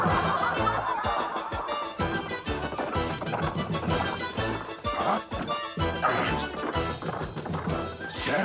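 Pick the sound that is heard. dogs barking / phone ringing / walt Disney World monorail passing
dogs barking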